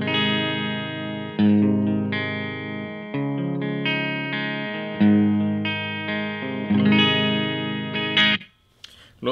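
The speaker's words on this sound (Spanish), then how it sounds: "Entonces la guitarra limpia suena de esta forma." A clean electric guitar played through a compressor, delay and reverb rings out in sustained, layered chords and notes for several seconds, smooth and loud with no voices.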